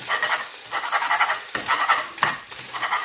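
Omelette and noodles sizzling and frying in a pan while being stirred, a steady close crackle with a few scraping strokes and clinks of a utensil against the pan.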